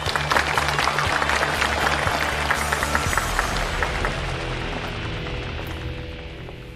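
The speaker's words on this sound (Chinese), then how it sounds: "掌声有请第一位男嘉宾。" Studio audience at a dating show applauds loudly and steadily to welcome a male guest, a dense wash of clapping that fades slightly toward the end, with no voices over it.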